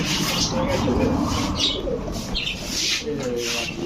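Pigeons, including a red-necked male and its female, coo in low, repeated throaty rolls close by, with faint chirps and a brief wing flutter, while people talk loudly over them.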